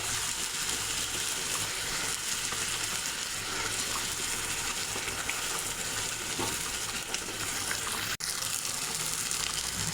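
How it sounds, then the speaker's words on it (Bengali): Fish pieces slide one by one into a pot of boiling, sour-spicy curry broth, bringing a steady, close bubbling sizzle that runs evenly with a single sharp tap near the end. "ঝোলটা ফুটে উঠেছে, আমি একে একে মাছগুলো দিয়ে দেব।"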